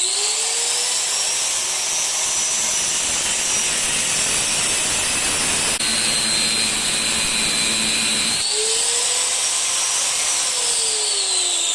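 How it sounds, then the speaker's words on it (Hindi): Angle grinder cutting steel rebar, a loud sustained high-pitched whine that dips and rises as the disc bites into the metal, close and continuous with no talking. "तो पहले ग्राइंडर से इसको काट लेते"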